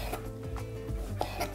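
A knife chops marinated artichokes on a board, giving a quick series of soft, close taps in a steady rhythm.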